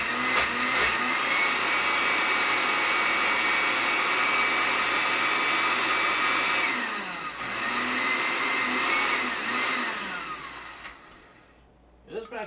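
A motorized grinder whirs loudly and steadily while it grinds jerk seasoning, with a short drop in pitch midway before the whine fades and stops near the end.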